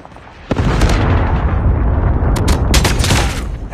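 A Predator missile explosion in Call of Duty 4 bursts suddenly into a loud, heavy boom, followed by sustained low rumbling and crackling debris with sharp bright cracks toward the end.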